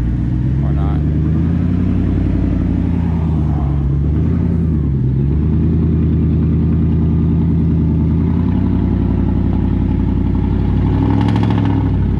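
A pickup truck with a 3-inch lift on 24-inch wheels and 35-inch tires climbing a hill, its engine labouring and revving in steady rising and falling pitch, close and loud, with someone talking over it throughout.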